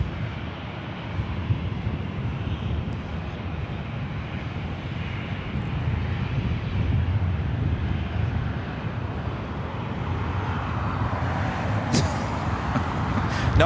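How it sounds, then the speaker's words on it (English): A Southwest Airlines Boeing 737-800 arriving at LAX from Tucson gives off a low, steady jet roar that builds gradually and stays broad and rumbling, heard from a distance with some wind on the microphone. "Next arrival is Southwest Airlines Flight 3550 coming up from Tucson, a 737-800."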